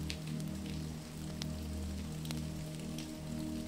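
Steady rain on a stormy night streams against old cottage windows, a dense even patter with occasional sharper drips over a low constant hum.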